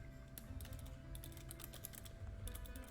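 Typing on a computer keyboard, quick irregular bursts of key clicks with short pauses, close but faint over a low background hum.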